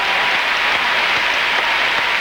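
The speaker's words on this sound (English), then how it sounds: "a large applause for 13-year-old Tara Lipinski" Loud, sustained applause from a large figure skating audience fills the arena, a dense wash of clapping with no pauses.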